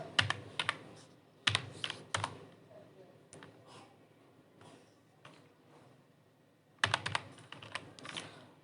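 Bursts of typing on a computer keyboard, clustered clicks with quiet pauses between, moderately close and alone without talk.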